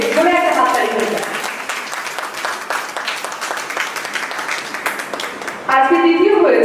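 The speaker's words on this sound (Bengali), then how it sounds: "ধরে একটা হাততালি হয়ে যায়।" A reality show audience applauds the first-place winner, a sustained crowd of clapping hands filling the stretch between music-like tones at the start and end, loud and close.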